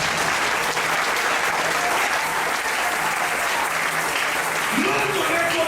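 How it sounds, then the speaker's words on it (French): Dense, steady applause fills a church service as the congregation acclaims Jesus, loud and continuous throughout with a faint voice under the crowd. "Est-ce qu'on peut acclamer Jésus?"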